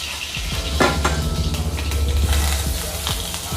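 Ginger garlic paste and a handful of curry leaves crackling and spitting in hot oil in a pan, with bursts of sharp popping and metal scraping, close and fairly loud.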